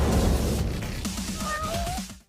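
A cat in Yakuza: Like a Dragon, one that transforms into a tiger, gives a few short meows over a busy game background, which cuts off abruptly at the end.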